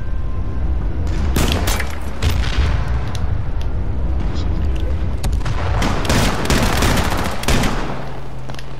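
Gunfire in the online shooter game H1Z1 on PS4 comes as loud, dense, rapid bursts of shots, nearly continuous with sharper cracks between them, close and dominant throughout.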